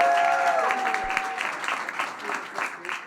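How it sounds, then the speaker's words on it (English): An audience at a startup pitch night gives a warm round of applause, a dense continuous clapping that gradually thins over a few seconds, with some murmuring voices mixed in. "Can I get one more warm round of applause for OneUpIt?"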